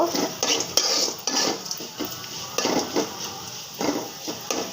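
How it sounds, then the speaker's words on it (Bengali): Panch phoron, a Bengali five-spice mix, fries in a pan with a steady light sizzle. Repeated metal spoon scrapes and clinks against the pan come in an uneven rhythm throughout. "পাঁচফোড়নটা ভেজে"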